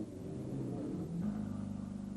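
A rally car speeding through a desert stage at the 1976 Kuwait Rally, its engine a continuous low rumble that rises briefly in pitch partway through, heard from fairly close without voices.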